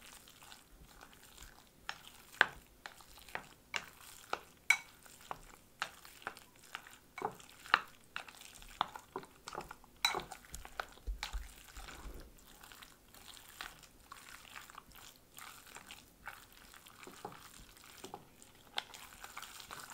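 Meat filling seasoned with pepper, soy sauce, sesame oil and cooking oil is stirred in one direction for a steady stretch, giving soft wet squelches and faint rhythmic clicks of the utensil against the bowl, quiet and alone.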